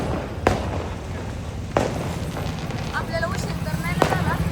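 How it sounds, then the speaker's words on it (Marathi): Three sharp firecracker bangs go off a second or more apart at the crowded Wagheshwar temple in Wagholi on Tripurari Purnima, loud and fairly close, over a steady background of crowd chatter and voices. "हे बघा मंदिरात फटाके वाजतात"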